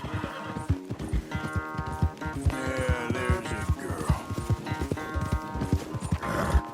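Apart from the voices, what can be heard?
horse galloping in race, video game Red Dead Redemption 2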